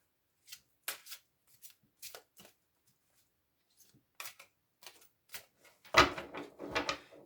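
A deck of oracle cards is handled in a quiet room: scattered soft riffles and taps, then a denser burst of shuffling and cutting toward the end, close and fairly faint.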